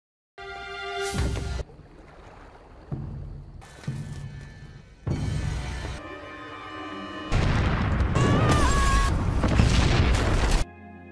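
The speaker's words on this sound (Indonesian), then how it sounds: "mereka langsung meledakkannya hingga membuat sebuah ledakan yang begitu besar" Zuko's warship explodes in an animated series, with a sequence of heavy booming blasts in separate bursts building to a long, loud roaring explosion near the end, with no talk.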